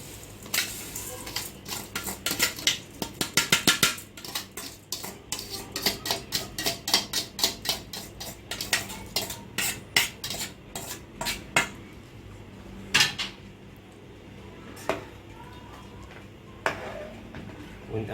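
A spoon or ladle clanks repeatedly against a metal pot while rice is stirred into boiling water, with sharp irregular scrapes and knocks close by, trailing off into sparser taps.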